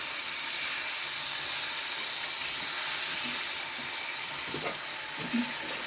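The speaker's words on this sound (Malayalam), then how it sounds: "നമ്മളെ മീൻ ഫ്രൈ ഇവിടെ റെഡി ആയിക്കൊണ്ടിരിക്കുകയാണ് ഓരോന്നും വീണ്ടും വീണ്ടും തിരിച്ചും മറക്കുകയാണ്" Fish frying in a pan makes a steady, soft sizzle and hiss throughout, with a few faint clinks and stirring sounds near the end.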